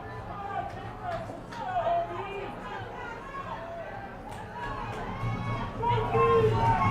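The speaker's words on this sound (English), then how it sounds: "Crowd's getting loud All right, for this 3rd down" Crowd at a varsity high school football playoff game, a broad murmur of chatter and shouts swelling louder toward the end, with people talking over it.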